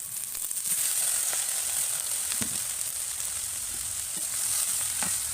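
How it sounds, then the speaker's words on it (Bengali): Bathua greens frying in hot oil with garlic and salt, a continuous hissing sizzle with occasional soft clicks of a spatula, no talking. "এবার আমি এই শাকগুলো ঢেলে দেবো"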